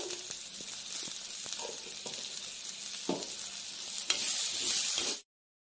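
Jackfruit and spices frying in a pan, a steady close sizzle with occasional stirring scrapes and taps that swells louder just before cutting off abruptly.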